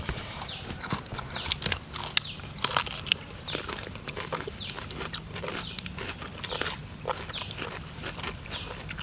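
Someone bites into and chews enoki mushrooms coated in sauce, close up: repeated crisp, wet crunches and smacking in an irregular rhythm, with no talk.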